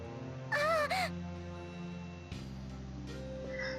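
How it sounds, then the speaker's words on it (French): Two harsh caws from a bird in the video game Valkyria Chronicles ring out close and loud over a steady game soundtrack hum, followed by quieter game sounds. "Un oiseau vient juste de rentrer à travers la fenêtre!"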